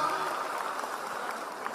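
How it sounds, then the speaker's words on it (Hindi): Audience applause at an AWPL wellness company gathering: dense, steady clapping fills the whole short stretch at close range, with no break. "इनके लिए एक बार जोरदार तालियां"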